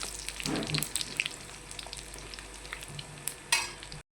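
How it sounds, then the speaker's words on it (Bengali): Moong dal and coconut fry together in a pan with a soft, steady sizzle, broken by a few scraping stirs and a brief louder clatter near the end, heard up close without talk. "মুগ ডাল আর নারকেলটা আমি একসাথে ভাজা করলাম"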